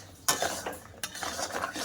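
A utensil scrapes and clatters against a metal pan while jaggery-coated sticks are stirred off the heat, giving two sharp knocks followed by softer, uneven scraping strokes, close and fairly quiet.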